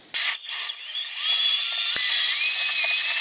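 A power drill mixer stirs GURU waterproofing membrane with water, giving a loud, close, high-pitched whine that starts abruptly, dips briefly, then climbs and holds steady without any speech.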